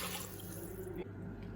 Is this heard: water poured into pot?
yes